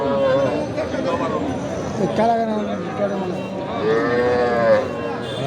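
Cattle low repeatedly at a busy livestock market selling young heifers and small bulls, several drawn-out moos rising and falling close by over a constant crowd murmur and background chatter.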